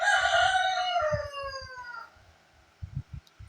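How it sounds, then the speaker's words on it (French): A rooster crows loudly and nearby in one long drawn-out call, followed by scattered soft clucks and rustling once it fades. "Vous allez devoir m'excuser avec les poulets."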